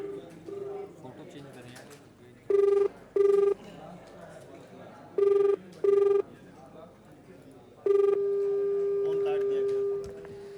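Call placed to the DIG of Meerut: pairs of electronic ringback tones repeat at steady intervals, then a longer held tone, with faint talking and room noise underneath.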